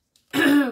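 A single sharp, close throat clearing with a cough-like edge from one person, loud and isolated after a brief near-silence.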